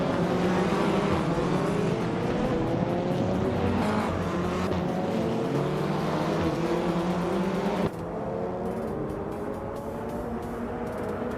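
Race cars speed through a racing video game, their engines a loud, continuous whine that keeps climbing in pitch as they accelerate, with a slight drop in intensity near the end and no talking.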